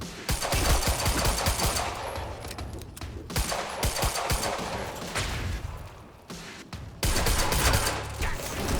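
Rapid, loud gunfire sounds in Quantum Break, continuous automatic bursts with short gaps, close and dense, with game voices mixed in.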